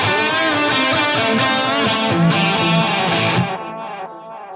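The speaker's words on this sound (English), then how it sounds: "we're going to get those delayed repeats and reverb decay continuing" Electric guitar run through a Line 6 Helix with distortion, delay and reverb, chords sounding steadily, then the playing stops and echoing repeats and a reverb tail trail off, fading over the last second.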